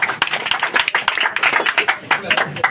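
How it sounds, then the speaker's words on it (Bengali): An audience at a pigeon fanciers' tournament prize-giving claps in a brisk, steady burst of many hands. The applause is loud and close and lasts throughout. "আবার একবার হাত তালি হয়ে যায়"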